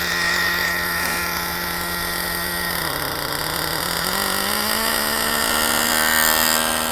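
Traxxas Revo 3.3 nitro RC monster truck engine idling after ten years unused, a buzzy small two-stroke drone with slight pitch dips and recoveries, close and steady throughout.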